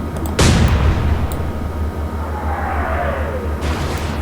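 A heavy broadside from British naval guns in Atlantic Fleet booms shortly after the start, then a rolling rumble and a falling shell whistle fade over steady engine hum.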